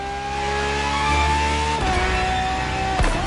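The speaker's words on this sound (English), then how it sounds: "this insanely powerful car was used for years as an R&D test car, allowing Ferrari to collect precious data" Ferrari FXXK R&D test supercar in a racing video game, the engine holding a steady high-pitched drone, then dropping sharply in pitch at a gear shift, loud and close with no talking.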